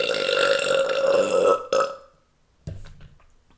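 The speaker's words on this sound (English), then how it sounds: "I'm assuming it's because of the burping" A loud, drawn-out burp holds for about a second and a half, then breaks off, and a short second belch follows after a brief silence, close to the mic with no talking.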